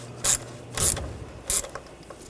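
Valve cover bolts on a 2014-2020 Nissan Rogue 2.5L being snugged down with a ratchet, heard as three short, close metallic ratcheting bursts with quiet gaps between them.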